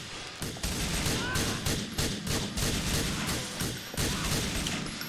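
Gunfire in the video game Grand Theft Auto IV: a sustained, loud barrage of rapid shots crackling in dense bursts for several seconds, with overlapping reports and no pauses.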